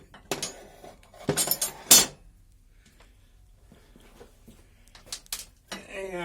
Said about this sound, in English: So let me get those last two bolts removed.